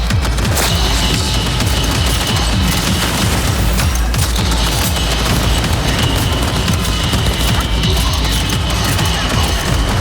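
A Panzer turret fires in Cyberpunk 2077 Phantom Liberty, a dense, continuous barrage of heavy booming shots and explosions that stays loud for the full ten seconds.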